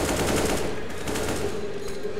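Dense, continuous gunfire rattles through a CS:GO match at a LAN tournament final, steady and loud with no clear gaps between the shots.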